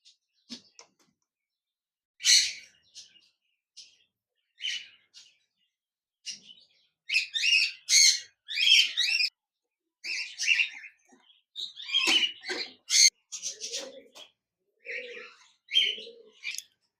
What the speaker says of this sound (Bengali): এক জোড়া কোকাটেল পাখি রয়েছে,